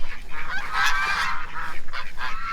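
A group of farm geese honk repeatedly in quick, overlapping calls at moderate distance, forming a busy, uneven chorus.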